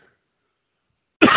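After near silence, a single sudden, loud cough bursts out close up.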